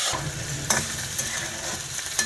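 Thinly sliced potatoes fry in a pan for oats poha with greens, a steady close sizzle broken by a few sharp scrapes as the pan is stirred, with no talking.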